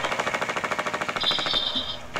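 Rapid automatic gunfire in a multiplayer shooter video game, a steady stream of evenly spaced shots lasting about two seconds, fairly loud and close, with a brief high whine and a sharp final report at the end.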